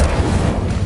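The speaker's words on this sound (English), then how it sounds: "Incendio!" A fire spell bursts in the video game Hogwarts Legacy, a loud, dense whooshing roar of flame with heavy low rumble that holds steady for under a second, close and full.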